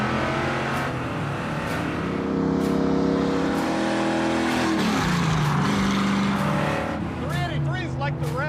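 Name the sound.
383 engine car revving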